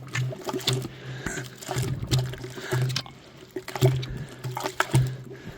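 Mud and powder being mixed by hand with a tube in place of a cement mixer: wet, sloshing scrapes and thuds repeat in an irregular rhythm, close and fairly loud, with no talking.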